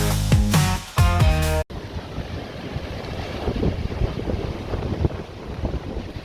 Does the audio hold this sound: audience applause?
no